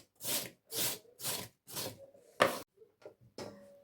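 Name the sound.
grating carrot for Korean salad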